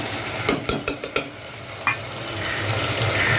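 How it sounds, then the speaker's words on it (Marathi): Potatoes and spices frying in oil, with a series of sharp spoon scrapes and clinks against the pan over a soft continuous sizzle that grows a little louder toward the end. "तर सर्वात पहिला आपण हे चांगलं एकजीव करून असे फ्राय करून घेऊया तेलामध्ये."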